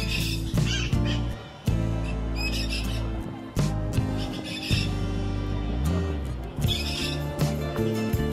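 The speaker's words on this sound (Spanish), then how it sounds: "Tanto loro, tanto guacamayo" Parrots and macaws squawking loudly in enclosures at a park in Quilmaná, Cañete, harsh repeated calls overlapping with a steady mix of background noise and activity.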